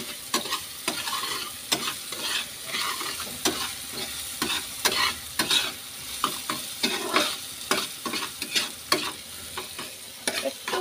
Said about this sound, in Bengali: এবার একটু নুন দেবো, তাতে পেঁয়াজটা ভাজা ভাজা হয়ে যাবে।